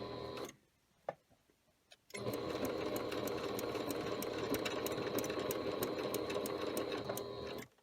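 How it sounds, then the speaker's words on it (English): A sewing machine stitches a handle onto a bag, running in one steady, close, rhythmic whirring burst after a pause with a few faint clicks, then stopping abruptly. "I'm just going to stitch. I'm going to barely stitch it on."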